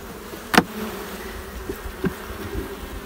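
Honey bees swarm around an opened beehive, their steady buzzing close and continuous, with a few sharp knocks and clicks from handling the hive frames; no talking.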